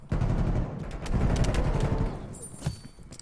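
Rapid SMG fire in a first-person shooter game, a dense loud burst of automatic shots that sputters off into scattered reports and a brief metallic ring.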